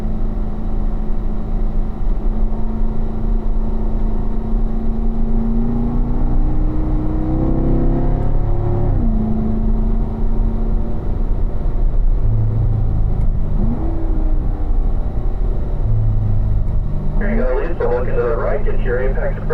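A car engine hums and shifts pitch as it accelerates through corners on a track during a driving lesson, a steady loud drone with rising and falling tones, heard under continuous instructor talk.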